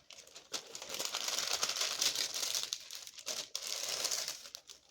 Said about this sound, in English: Got my wax paper to make it easier to pick up.